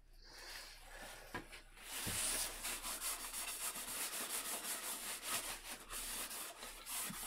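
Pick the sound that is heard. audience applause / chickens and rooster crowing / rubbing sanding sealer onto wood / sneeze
rubbing sanding sealer onto wood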